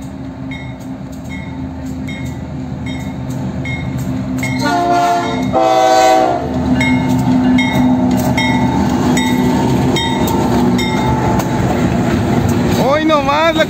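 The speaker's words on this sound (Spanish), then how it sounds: "Hoy nomás la 4516, la que trae silbato muy antiguo." KCSM 4516 locomotive passes close by, blowing a very old horn in loud sustained blasts over a heavy rumble of rail cars, with clanking wheels and a voice talking near the end.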